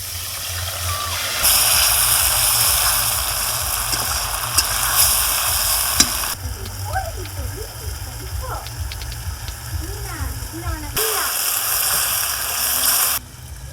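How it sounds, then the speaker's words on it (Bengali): Spices fry in hot oil in a pan, a steady sizzling hiss that runs throughout, with short bursts of talk partway through. "তেলটা গরম হয়ে গেছে এইবার মশলা দিয়ে দিচ্ছি"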